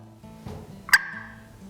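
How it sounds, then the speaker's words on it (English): A wild turkey gives one sharp, short cluck out in the open, loud and close, standing alone over a quiet low background hum. "Whenever a turkey makes that single cluck"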